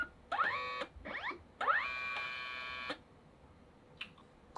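A Kodak Mini Shot 3 Retro instant printer laminating a photo, giving off a close, steady mechanical whirring in several bursts with rising tonal sweeps, pauses between passes, and a faint click near the end.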